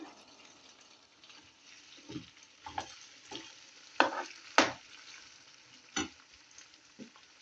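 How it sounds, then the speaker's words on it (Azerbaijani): Onions and chestnuts frying in a pan, a low sizzle punctuated by several sharp stirring scrapes and clatters, close by and otherwise fairly quiet. "Soğanla şabaltlar biraz qovrulsun"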